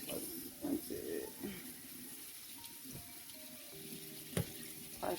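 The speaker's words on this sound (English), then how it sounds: "I'm just gonna use cold water because I feel like that'll be best." Cold tap water runs over kinkeliba tea leaves as they are rinsed, a steady close splashing hiss lasting throughout with a few brief louder spurts and clatters.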